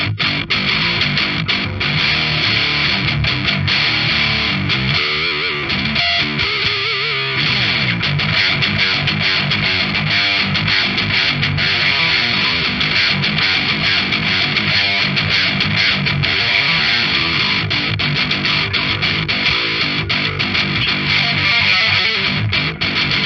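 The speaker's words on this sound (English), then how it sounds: "That is a very, very rad distortion sound coming just straight off the pedal with no other boost or anything." Electric guitar played through a Pepers Pedals Wendigo distortion pedal with no extra boost, into a Nux Solid Studio IR emulator, giving a thick, loud, saturated tone that rings steadily for the whole passage, unaccompanied.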